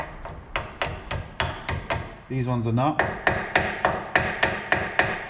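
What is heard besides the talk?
hammer striking brake caliper slide pins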